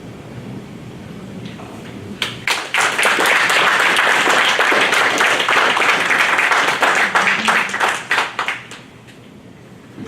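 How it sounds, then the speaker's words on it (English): Applause from an audience, close and loud, rising suddenly after a short quieter lead-in, with dense clapping that tapers off near the end. "round of applause."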